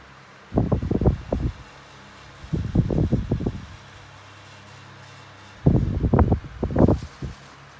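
A 1996 Blue Ice and a 1995 CED 12-inch desk fan oscillate side by side, their airflow swelling into loud, rushing whooshes each time a fan sweeps past, then fading to a low hum in between, in a rhythmic pattern of three sweeps.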